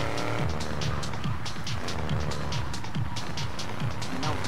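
A car circles a roundabout in the remastered Grand Theft Auto 3, its engine a steady, loud drone with faint tire noise and game ambience, filling the clip without pause.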